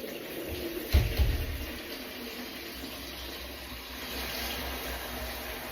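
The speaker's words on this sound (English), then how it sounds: "This is the water bowl from outside, guys. Just put some fresh in there again." Fresh water splashes briefly into an outdoor dog's water bowl, a short gurgling pour near the start that fades into a steady, quiet background hiss.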